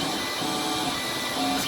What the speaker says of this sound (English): This is my Creality Ender 3 3D printer. Currently 3D printing a red